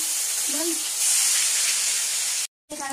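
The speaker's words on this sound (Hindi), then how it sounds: "फिश में पहले तो नमक हल्दी मसाले डाल के पहले इसे हम फ्राई करेंगे" Fish seasoned with salt, turmeric and spices frying in hot oil, giving a continuous loud hiss close by. A brief voice cuts in early, and there is a short gap near the end.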